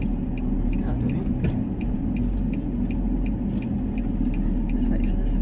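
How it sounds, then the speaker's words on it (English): A car rolls along a road close by in Rotorua, New Zealand, a low steady engine rumble with light road noise heard from inside a moving vehicle while someone speaks over it. "What's this car doing?"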